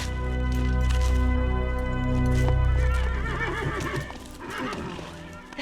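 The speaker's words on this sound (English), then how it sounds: "That's a good horse." A horse neighs loudly and long, its whinny wavering, while hooves clop in a rhythmic trot beneath, close and prominent with no talking.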